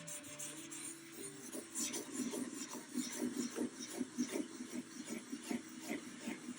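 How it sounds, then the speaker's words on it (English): Wood being sanded by hand, a soft raspy rubbing in a steady back-and-forth rhythm of repeated strokes, close but quiet, with no talking. "if you listen to it while you're sanding, you can hear the pitch of the sanding change on you"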